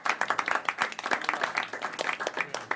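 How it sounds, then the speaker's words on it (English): A board meeting audience gives a round of applause for a hostess, a moderate crowd of clearly separate hand claps pattering in a quick, uneven rhythm without talk. "Everybody, a round of applause for Libby Lou and her great hospitality."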